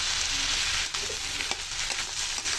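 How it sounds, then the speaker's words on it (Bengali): Ginger and garlic frying in a hot pan for a rice dish, giving a steady broadband sizzle with a few soft stirring scrapes and no talking. "এবার আমি ভেজে নেব। এবার দিয়ে দেবো আদা রসুন।"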